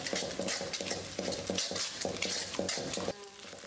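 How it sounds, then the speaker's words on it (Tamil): Eggs and onions frying in a pan for Hakka noodles are stirred in quick, rhythmic strokes, with a spatula scraping repeatedly over a soft sizzle, fairly faint and close. "இப்போ இந்த முட்டை வந்து நல்லா ஃப்ரை ஆகணும்."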